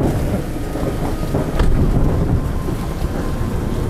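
Thunder rolls over steady heavy rain during an outdoor storm. A rumbling burst rises partway through above constant rain hiss and wind buffeting on the microphone.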